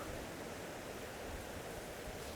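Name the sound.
wind blowing outdoors in Hawaii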